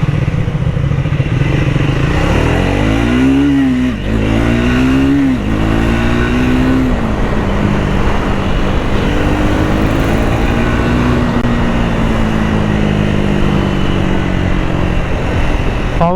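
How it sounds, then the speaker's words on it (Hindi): A Triumph Speed 400 motorcycle launches from first gear, its engine revving up in rapid rising sweeps through quick shifts before settling into a steadier drone. The sound is loud and close throughout. "तो मैं भाई फर्स्ट गियर से पिकअप लेता हूँ।"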